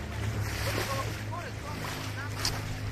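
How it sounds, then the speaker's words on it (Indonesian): Sea waves wash behind Pulau Panjang island at night at low tide, a steady rolling surf mixed with wind buffeting the microphone and a few faint squeaky calls. "Gelombang guys. Gelombang sedikit."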